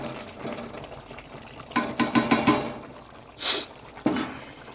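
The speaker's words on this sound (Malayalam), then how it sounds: "ഇപ്പോൾ സെറ്റായെന്നുള്ള അടയാളം ഈ തിളച്ച സൗണ്ടാണ്." Milky chicken curry bubbling in a pot: soft background simmer broken by several close bursts of bubbling and liquid stirring, with no talking.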